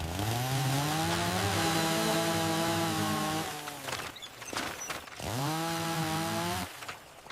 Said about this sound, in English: Chainsaw's ready, standing clear.